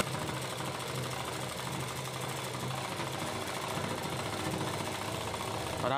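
A sewing machine stitches a blouse sleeve with a fast, even, continuous rattle at close range, quiet overall and running steadily throughout.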